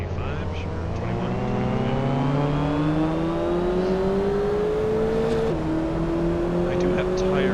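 Mazda MX-5 ND Miata in a racing video game at Suzuka, engine droning with rising pitch as it accelerates, a sudden drop as it shifts gear, then climbing again, with a voice speaking faintly over it.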